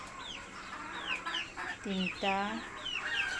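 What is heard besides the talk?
native chickens clucking on balcony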